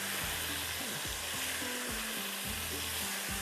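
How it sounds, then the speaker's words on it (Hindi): Tomatoes and masala fry and sizzle steadily in a hot pan for a palak chana paneer dish, with a constant loud hiss and a spoon repeatedly scraping and stirring through the mixture. "ताकि ये जो आपको नज़र आ रहा है टमाटर और ये जो मसाला जो है ये बहुत अच्छे से भुन जाए"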